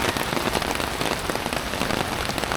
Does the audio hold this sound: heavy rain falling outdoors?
yes